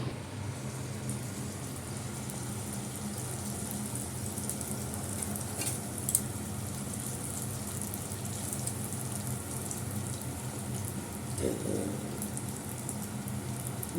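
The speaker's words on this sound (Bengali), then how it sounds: "এখন এই লুচি ভাজা হচ্ছে" Luchi, puffed flatbread, deep-frying in oil with a continuous, even bubbling sizzle at moderate volume throughout, broken only by a couple of faint clinks.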